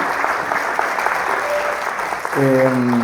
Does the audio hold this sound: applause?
yes